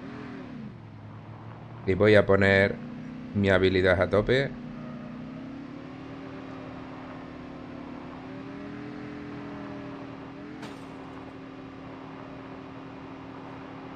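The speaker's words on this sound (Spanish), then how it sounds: "Voy a coger la moto y voy a ir allí." A motorbike engine in the mobile shooter Call of Duty Mobile hums steadily and evenly throughout, with someone speaking Spanish in two brief bursts over it.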